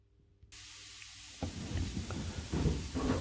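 Compressed air hisses inside a stainless vapor blasting cabinet fitted with a 3D printed nozzle, starting abruptly as a broad steady hiss, then growing rougher and louder with spraying bursts.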